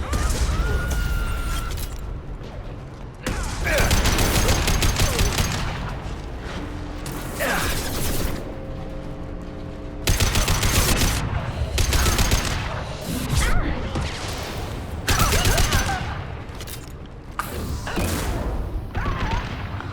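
Gunfire from the Mass Effect 2 video game comes in dense, loud bursts of rapid shots and mechanical clatter, broken by a few short lulls. Brief game voices cut in between the volleys.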